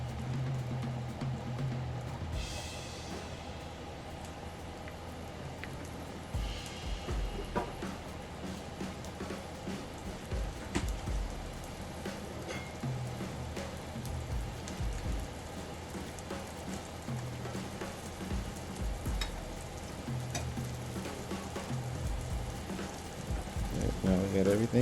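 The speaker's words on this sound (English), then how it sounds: "butter's not burning in our saute pan, so we can add our asparagus to that" Asparagus sizzles in butter in a saute pan, a steady crackling fry like light rain that runs throughout at moderate level with scattered louder pops and some kitchen clatter.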